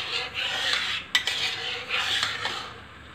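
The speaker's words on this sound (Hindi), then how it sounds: "दूध को इस तरीके से चलाना है" Milk stirred in a pan for white sauce pasta, a spoon scraping and rubbing against the metal base in slow repeated strokes with a couple of sharper clinks, close and fairly quiet.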